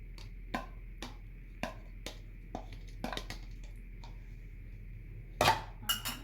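Sweet curd is mixed into cooled milk in a bowl: quiet, sporadic utensil clinks and taps against the bowl, spaced irregularly, with a few louder knocks near the end.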